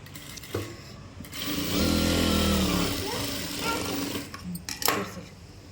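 A domestic sewing machine stitching through fabric after its loose thread tension has been tightened, a steady mechanical whirring run of a few seconds, close and fairly loud, with quieter handling sounds before and after.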